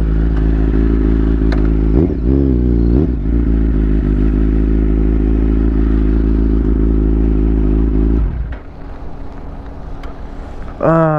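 Kawasaki superbike engine running loud and steady close by, rising in pitch with a couple of quick revs, then dropping away to a lower rumble before a final sharp rev near the end.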